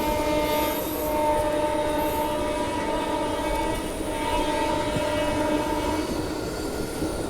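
The Kakinada Town–Tirupati Express (17250) rumbling steadily and loudly at close range onto a road-cum-rail bridge over the Godavari, with sustained tonal horn-like drones and metallic wheel noise throughout, no voices.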